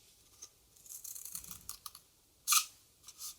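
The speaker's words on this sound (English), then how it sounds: "you take your cardboard tube and you cut about 1 inch" Scissors or a craft knife snipping through a cardboard tube during a craft project, a few quiet scattered cuts and crisp clicks, with one sharper snap near the end.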